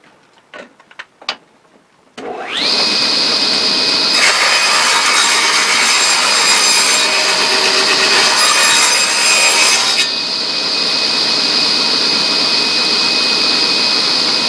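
A table saw fitted with a crosscut sled spins up after a few light taps, then cuts steadily through wood for a box in a loud, continuous whine with a brighter, harsher stretch mid-cut before returning to a steady hum.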